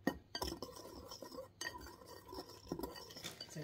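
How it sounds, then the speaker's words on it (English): A whisk beats ingredients together in a bowl while making a crispy chicken sandwich, giving a soft, close, irregular run of metallic clinks and scraping swishes against the bowl, with no talking. "just get the whisk. Mix it together."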